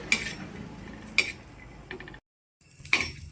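Metal spatula scraping and clinking against a pan while green chillies roast with salt, a few bright clanks separated by quieter stirring and one brief silent gap.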